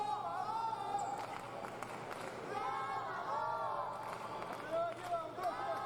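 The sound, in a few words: crowd chanting fencer's name Llavador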